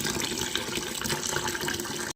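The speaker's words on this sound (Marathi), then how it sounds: "सात आठ तासासाठी आपण भिजत पाणी टाका" Water pours steadily over lentils in a vessel to soak them, a continuous close gushing splash lasting about two seconds.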